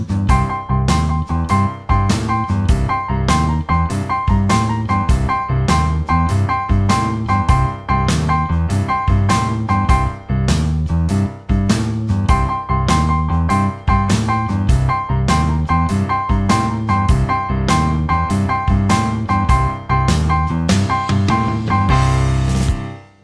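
Blues piano improvisation built on displaced quarter note triplets, played loud and close: a steady, unbroken stream of chords and bass notes in a driving rhythm for over twenty seconds, with no talking.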